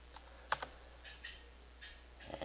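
Short burst of keystrokes on a computer keyboard while entering a disk command on a laptop, a few scattered clicks and taps, fairly quiet and close with no talking.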